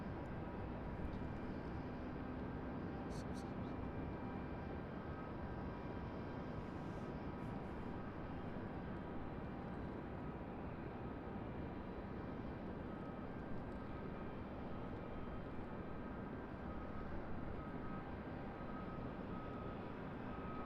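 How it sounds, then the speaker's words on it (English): Southwest Boeing 737 MAX 8 arriving from Tampa at Raleigh-Durham airport, a steady broadband jet roar that holds at a constant level throughout, continuous and fairly distant. "Southwest 737 MAX 8 arriving from Tampa."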